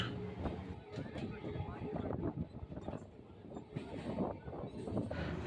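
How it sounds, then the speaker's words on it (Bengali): A suburban train runs between New Alipore and Majerhat stations in Kolkata, giving off a steady close rumble and rattle with wind noise, while indistinct voices murmur over it. "এখন ট্রেন আবার নিজের গতিতে ছুটে চলেছে"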